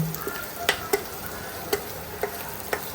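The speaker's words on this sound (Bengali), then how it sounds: "এখন সবগুলো মশলা একসাথে ভালো করে নিয়ে চেড়ে ভেজে নেব" Ground spices, including chili and coriander powder, sizzle and fry in a pan while being stirred. A steady crackling hiss runs throughout, broken by several distinct clicks from the stirring utensil.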